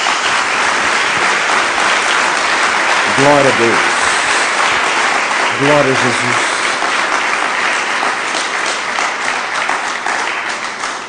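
Steady, dense applause from a church congregation fills the whole stretch, with a voice briefly calling out praise over it twice.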